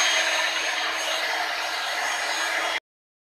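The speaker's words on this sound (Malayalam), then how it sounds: "ഇനി ഇതൊരു ഇലക്ട്രിക് ബീറ്റർ വെച്ച് നന്നായിട്ട് ബീറ്റ് ചെയ്തെടുക്കാം" An electric hand beater whirs steadily and loudly through white forest cake batter, a continuous high motor whine that runs unbroken for nearly three seconds and then stops abruptly.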